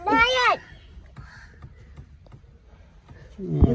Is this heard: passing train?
no